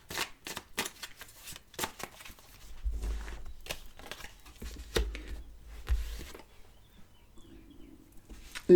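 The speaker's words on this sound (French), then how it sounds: "J'ai mal mélangé, pourtant j'ai remélangé." Tarot cards being shuffled by hand: a quick run of crisp, close riffling flicks at first, then softer, scattered shuffling taps and rustles that fade toward the end.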